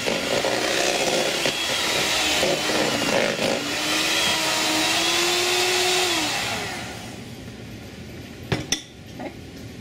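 An electric mixer running on low speed whips cream until it turns to butter, giving a steady motor whir with a rising then falling pitch, then it cuts off, leaving a few sharp clinks and knocks.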